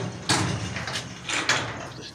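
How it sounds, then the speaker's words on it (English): A sliding door rolled open and shut twice: two rumbling slides along the track, each starting with a sharp bump and rattle, close and fairly loud, with no talking. "This door's never been open and closed so much."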